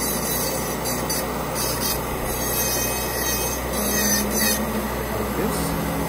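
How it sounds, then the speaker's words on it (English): A dental implant crown is ground down at the lateral surfaces, a continuous rough rubbing grind with a steady low hum beneath and brief higher tool whines, close and sustained. "Now laterals here are really sticking out, so I grind more."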